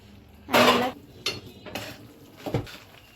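Sesame and peanuts being stirred into sugar syrup in a pan for tila laddu, heard as a burst of clattering scrape followed by a few lighter metallic clinks of a utensil against the pan.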